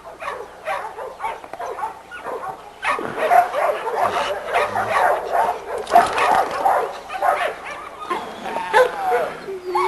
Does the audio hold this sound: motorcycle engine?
no